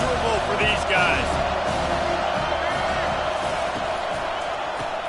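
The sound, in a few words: football stadium crowd noise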